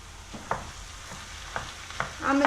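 Meat stirred into carrots and softened vegetables frying in a pan for a potato moussaka, with a steady soft sizzle and several scraping stirs, the last one longer and louder, close up without talk.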